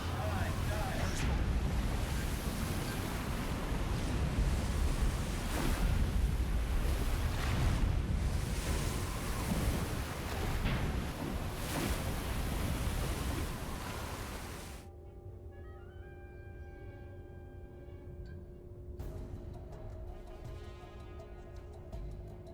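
Ocean waves in the submarine game Silent Hunter 4, a loud broadband wash of surf and wind for about fifteen seconds that drops away abruptly into quieter tonal game sounds.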